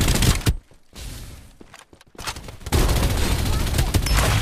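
Gunfire from an online shooter game played in duo: bursts of shots crackle in short clusters, dropping out briefly before a dense, loud barrage takes over near the end, with some voice mixed underneath.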